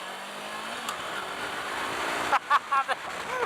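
A 2018 Kawasaki Versys X 300 motorcycle engine revs steadily up close, with a few sharp throttle blips near the end.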